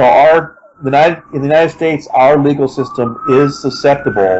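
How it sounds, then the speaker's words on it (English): Someone speaks loudly up close while a faint wailing siren rises and falls in the distance behind his voice, on a New York City street. "Sorry about the sirens here in New York City."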